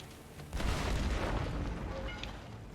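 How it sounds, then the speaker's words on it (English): A loud boom from an explosion in the video game Red Dead, a sudden broadband blast at about half a second that rumbles on and fades slowly, with faint scattered pops behind it. "I'm gonna make up an explosion."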